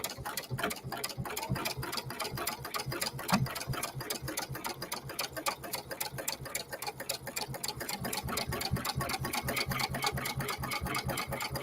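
A sewing machine runs steadily for the whole stretch, top stitching along the edge of a zipper with a slightly lengthened stitch. Its rapid, even needle ticks stay close and fairly loud, with no talk over them.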